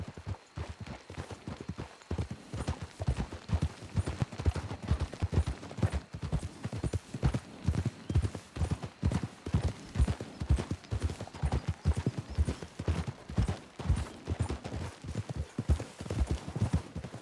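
Horses galloping in Red Dead Redemption 2, a steady rapid clip-clop of hooves running continuously and close, with no talk over it.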